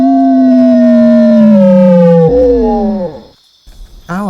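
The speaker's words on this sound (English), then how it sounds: "it quickly jumps onto the roof of the house and howls loudly" A werewolf howls loudly from a house rooftop, one long sustained wailing howl that slides downward, then breaks into a shorter falling cry and a final brief yelp, close and alone.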